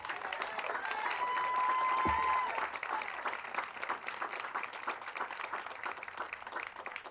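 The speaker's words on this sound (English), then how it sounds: "Give Alexis a round of applause" A crowd at an outdoor domestic violence awareness walk claps steadily for a speaker, a dense even patter of many hands, fairly distant and sustained, with a brief whistle-like tone and a low thump partway through.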